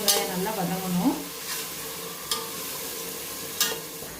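Small onions sautéing in a pan for vegetable rice, giving a steady sizzle with a few stirring scrapes near the start and occasional louder crackles, close and alone.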